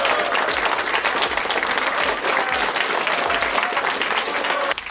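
An audience breaks into a round of applause, loud and continuous crowd clapping that holds steady from start to finish with no voice over it.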